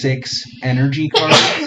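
A single sharp sneeze bursts out at the end of a short stretch of close speech, with talking over most of the clip.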